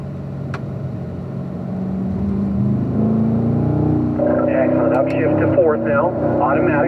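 Race car engine accelerating down the front straight of a track, a rising droning tone climbing in pitch and growing steadily louder, with a radio voice speaking over it.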